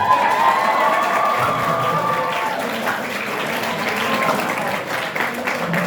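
A seated audience at a Ramadan lecture in an Islamic school claps steadily for several seconds, a dense close wash of applause with faint voices mixed in.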